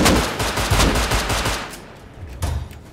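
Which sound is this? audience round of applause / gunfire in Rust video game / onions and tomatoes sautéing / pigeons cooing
gunfire in Rust video game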